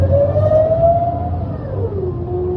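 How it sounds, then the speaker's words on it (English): ZF Ecomat automatic gearbox on an Adelaide Metro Scania L94 bus, a loud close whine that holds steady, then slides down in pitch and settles lower over a low engine rumble. "That sound you just heard is the famous ZF Ecomat gearbox."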